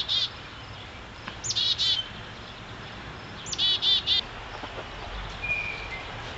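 High, thin chirps from baby chickadees come in a few short bursts, separated by pauses, over a hissy outdoor background.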